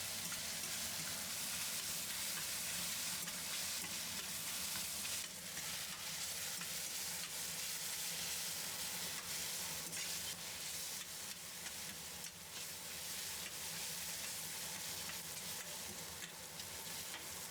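Thinly cut eggplant stir-fries on high heat in a Chinese dish, with steady sizzling and frying crackle under occasional scraping and stirring strokes, close and continuous.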